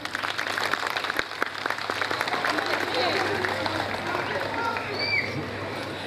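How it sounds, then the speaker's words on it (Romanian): An audience at an interethnic festival in Tulcea claps for a young Aromanian girl, moderately dense applause that tapers off under background murmur and a few voices. "O aplaudăm pe Maria."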